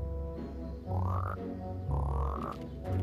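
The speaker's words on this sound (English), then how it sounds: "They turned Taylor into a frog." A cartoon frog gives two loud, close, rising croaks, each a drawn-out, throaty call, over a low steady background hum.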